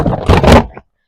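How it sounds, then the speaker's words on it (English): A caravan door is shut with a single short, heavy thunk, close and loud, ending abruptly in silence. "back in the caravan, shut the door"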